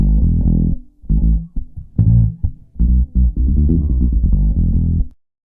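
Combined bass tracks with a hollow, thin tone, playing a continuous low melodic line in separate phrases over about five seconds, loud and alone.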